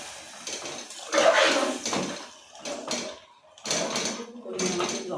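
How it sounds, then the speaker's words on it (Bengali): Water is poured into a pressure cooker of khichuri with vegetables, a gushing, splashing pour that swells and fades in bursts, with metallic knocks of the pot in between. "আমি এবার পরিমাণ মতো জল দিয়ে দিচ্ছি।"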